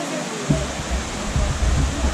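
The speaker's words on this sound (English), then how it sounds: "we've reached another of the waterfalls" A waterfall on the Four Waterfall Trail in the Brecon Beacons roars steadily as constant broadband rushing water, with a few faint low thumps.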